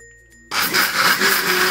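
An electric blender grinds soaked rice with coconut and salt into appam batter. It starts abruptly after a brief quiet hum and becomes a loud, steady, high-pitched whirring grind with no voices.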